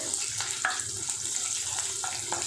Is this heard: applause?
no